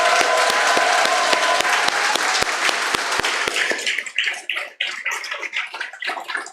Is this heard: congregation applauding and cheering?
yes